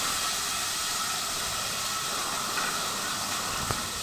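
Mango pieces sizzle in a hot pan for a sour mango dish, a steady broad hiss with faint crackles, moderately loud and close, with no talking.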